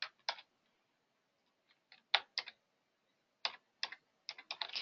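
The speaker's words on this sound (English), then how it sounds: "I'm going to put Judy, and I'm going to type it with 4 J's, this time 5 J's." A name typed on a computer keyboard, heard as scattered clusters of light, crisp key taps separated by short pauses, close and quiet in an otherwise silent room.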